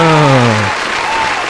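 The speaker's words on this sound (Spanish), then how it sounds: "quien se merece un fuertísimo aplauso" An audience gives a round of applause on a Spanish-language podcast, steady clapping following a voice that ends just before it.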